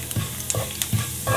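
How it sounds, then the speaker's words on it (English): Cumin seeds dropped into three tablespoons of hot oil in a frying pan over a medium gas flame, giving a soft, steady sizzle with a few small stirring knocks and pops, close by and without talk. "As soon as this 3 tablespoons of oil in the frying pan's hot, you put the cumin seed."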